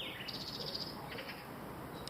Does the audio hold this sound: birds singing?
yes